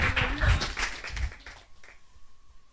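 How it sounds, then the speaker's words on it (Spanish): A church congregation at a Spanish-language service claps, a short loud burst of many hands that quickly thins and fades into near quiet. "Bríndele ese aplauso al Señor. Fuerte y con ganas."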